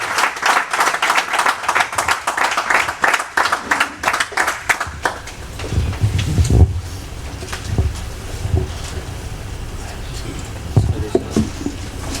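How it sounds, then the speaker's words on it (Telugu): A church congregation at Sunday worship claps in a dense, even burst for about five seconds to welcome the preacher, then the applause fades into murmuring room sound with a few scattered knocks. "అందరూ చప్పట్లు కొట్టి దైవ సేవకులు ముందుకు ఆహ్వానించారు"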